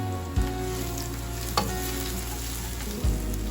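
Panch phoron, grated ginger, turmeric and cumin fry in hot oil with a loud, steady close-up sizzle, broken by a few sharp clatters of a spoon against the pan.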